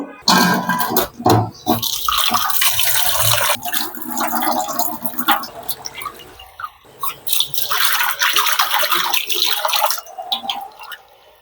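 Hyacinth bean seeds washed in running water, a steady splashing and trickling rinse with brief gurgles and a short break midway, close and continuous.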